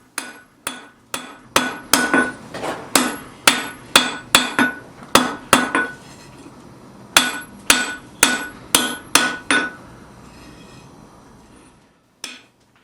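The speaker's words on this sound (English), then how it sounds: "you can start hammering it with the flat of your hammer" Hammer blows on a metal bar over an anvil at the forge, ringing strikes in a steady fast rhythm, about sixteen hits in two runs with a brief pause between, then a quiet stretch and a single last strike.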